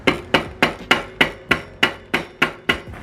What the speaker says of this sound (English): This is where you use the hammer.